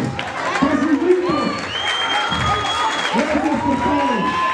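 Crowd at a lucha libre wrestling event in Guadalajara cheers and applauds loudly, with shouting voices and whistles over a continuous roar of clapping.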